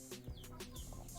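Chickens on a poultry farm, sick with CRD respiratory disease, cluck repeatedly in overlapping calls from several birds over steady farm background noise.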